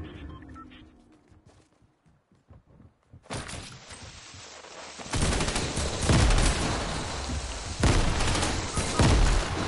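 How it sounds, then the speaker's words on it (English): Grenade explosions and gunfire in a shooter video game: after a quiet start, dense rapid gunfire and heavy booming blasts erupt, loud and sustained in waves through the rest of the clip. "I fell into where all your grenades were, so all I saw was flashes"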